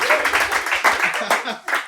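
Comedy club audience applause, a brief burst of clapping mixed with loud cheering and voices, short and fading quickly.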